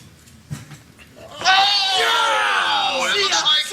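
A sheep lets out a loud, close, drawn-out bleat lasting about two seconds, wavering in pitch, after a quiet stretch broken by a single thump.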